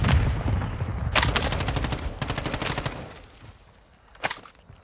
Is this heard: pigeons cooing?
no